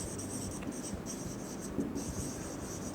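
Chalk or marker writing on a classroom board during a physics lesson on current electricity, a steady continuous scratching and scraping with short strokes, close and fairly quiet, with no talking over it.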